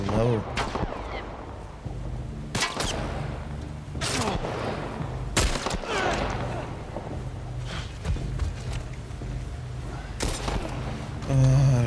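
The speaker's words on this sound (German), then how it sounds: "Schrotflinte." A shotgun booms in The Last of Us Part 1: about five sharp, loud blasts spaced a second or more apart over game ambience and footsteps, with someone talking between shots.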